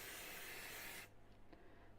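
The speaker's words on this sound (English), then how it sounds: "I'm just going to put some spray adhesive just on the inside" Spray adhesive hisses from an aerosol can onto the inside of a fabric scrap in one close, steady burst of about a second, then cuts off to quiet room tone.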